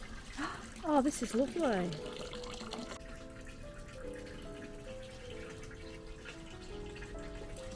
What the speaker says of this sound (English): Can I hear a water fountain?